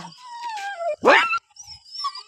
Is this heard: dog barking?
yes